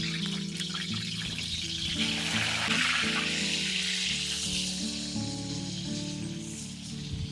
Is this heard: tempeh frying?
yes